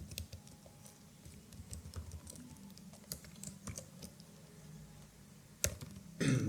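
Quiet, close-up clicking of a computer keyboard as CSS code is typed, irregular bursts of keystrokes with a louder thump near the end.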